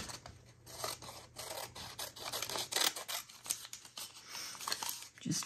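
Scissors trimming paper for an art journal page, with a close, quiet series of irregular snipping and rustling cuts spread through the passage.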